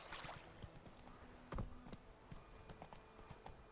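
Horse hooves clip-clop in the video game The Witcher: Wild Hunt, a faint, steady trot with light rhythmic thuds under soft ambient game sound.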